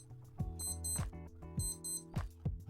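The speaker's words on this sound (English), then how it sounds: "you will hear this beeping sound" A Casio W216H digital watch alarm beeps in short high-pitched bursts, repeating in a steady pattern over a low electronic hum, close and fairly quiet.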